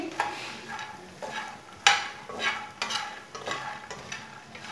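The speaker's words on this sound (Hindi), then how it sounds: "फूल मखाने को 2 मिनट के लिए भून लेंगे।" Fox nuts (makhana) roasting in hot oil in a pan, stirred with a spoon over low heat: a soft steady sizzle with repeated scraping strokes of the spoon, close and moderately quiet, no talking.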